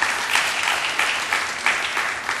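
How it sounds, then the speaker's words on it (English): An audience gives a round of applause at a county fund update meeting, loud, full clapping from a room of people continuing throughout. "Can we give them a round of applause?"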